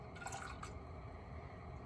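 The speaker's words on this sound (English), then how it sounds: "so you're going to slowly pour it into the sauce," A bowl of mixture is poured slowly into a simmering honey garlic sauce for sheet pan chicken, giving a steady close trickle and faint drips, alone, with no talk.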